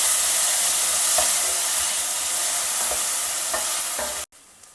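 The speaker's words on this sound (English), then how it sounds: "Next, add the chopped tomatoes and cook till soft." Chopped tomatoes sizzling and frying in a pan for sambar, a steady loud hiss with a few soft stirring clicks, cutting off abruptly near the end.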